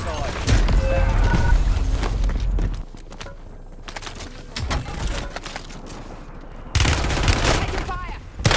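Sustained bursts of automatic gunfire in the Black Ops 6 Warzone Resurgence mode on Verdansk, loud and close, broken by a short lull before another volley, with game voice lines underneath.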